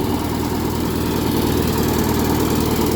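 A heavy farm tractor engine drones steadily and close by, a low continuous rumble with a rough, knocking texture and no pauses.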